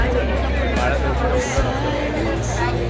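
A dense, steady crowd babble at a busy Ganesh festival fair in Kalachowki, Mumbai. Many overlapping voices chatter close by, with a low rumble underneath and a brief dip partway through.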